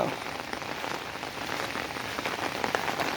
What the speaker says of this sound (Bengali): অনবর্ত বৃষ্টি চলতেছে